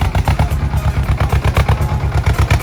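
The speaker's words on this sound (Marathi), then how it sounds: "इथं ट्रॅक्टर चढून चालवलाय" A tractor engine labours up a steep mountain track on the Char Dham pilgrimage route in Uttarakhand, a loud, close, rapid pulsing chug that repeats steadily throughout with no talk.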